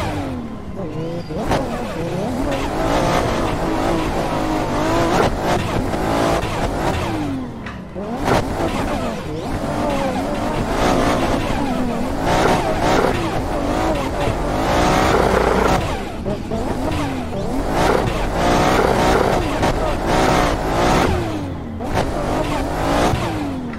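In Assetto Corsa, a big car drifts through the tight Ebisu Touge mountain track, its engine bouncing off the limiter and tires squealing in repeated long slides, loud and continuous, with a voice talking now and then.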